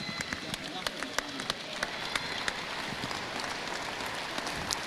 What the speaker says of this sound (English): a round of applause for all our seniors